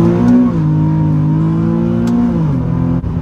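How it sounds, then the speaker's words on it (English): A Nissan 370Z pulling away in first gear, its engine a close, steady loud drone that climbs briefly, holds, then drops in pitch as the throttle eases. "Do a cheeky little first gear."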